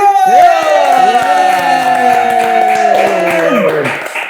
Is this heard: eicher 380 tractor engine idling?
no